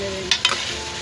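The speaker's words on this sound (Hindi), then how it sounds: "अब इनकी अच्छी तरह बुनाई करूँगी।" Chicken necks stir-fried (bhunai) in a pan, a short clip of sizzling with two brief scraping stirs of the spoon against the pan.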